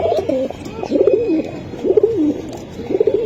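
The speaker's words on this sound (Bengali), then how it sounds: "দর্শক আমি একটু দেখাই দিলাম, খুবই সুন্দর কবুতর" Pankhi and Teddy breed pigeons give four distinct rounded coos in a steady rhythm, close by and clear, with no voices.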